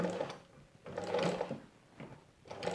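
A sewing machine stitches the binding on a patchwork quilt in short bursts that start and stop three times, close and fairly quiet.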